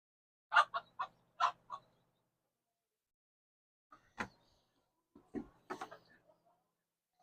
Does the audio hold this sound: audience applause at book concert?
no